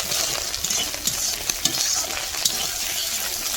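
Three eggs frying in oil in a wok (kadai), with a steady, fairly loud sizzle and crackle broken by a few small spattering pops, and no voices.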